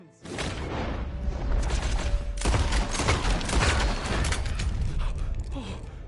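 Gunfire in the Red Dead Redemption 2 video game: dense, loud bursts of shots and clanking metal chains crash continuously, mixed with game sound effects throughout.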